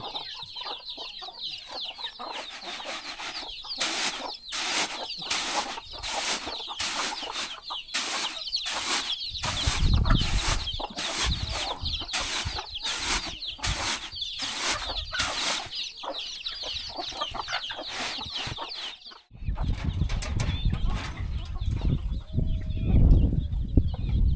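Chickens cluck nearby in a rural mountain setting, with repeated rhythmic bursts of flapping or scratching noise and a brief pause near the end, and no talking.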